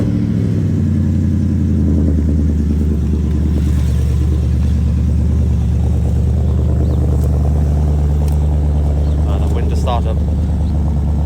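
BMW 650i engine cranking into life and settling into a deep, steady idle, a loud close low hum with a strong bass tone and faint mechanical ticking over the top, continuing unbroken.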